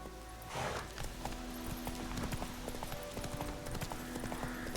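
Horse hooves clip-clop at a steady walking rhythm while riding along a road in the video game The Witcher 3, moderately close and fairly quiet, with a faint ambient bed.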